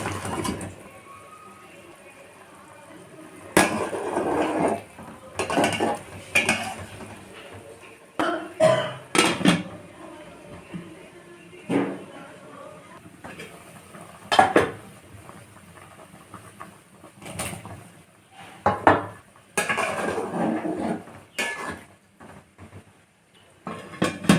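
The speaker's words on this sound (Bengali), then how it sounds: "বেগুনগুলোকে এবার দিয়ে দেবো" Eggplant pieces go into a cooking pot with small fish, giving scattered clattering knocks and scraping bursts, some sharp and loud, with quieter simmering gaps between them and no talk.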